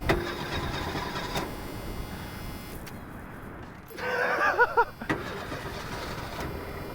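A cheap 1970s car's engine cranks and catches after a stretch of low background noise, a short burst of churning starter and engine sound, then quieter idle.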